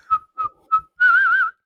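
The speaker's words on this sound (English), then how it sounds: "I'm a good whistler." A person whistles three short, clean staccato notes and then one longer note with a slight waver, loud and close, with nothing else heard.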